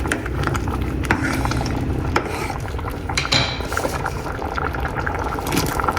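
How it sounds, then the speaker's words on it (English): Water bubbles and churns in a pot on the stove, with clinks and metallic clatter from utensils on top, near and steady. "Okay guys, it is boiling."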